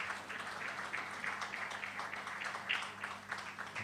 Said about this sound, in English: Please, let's clap for all of them.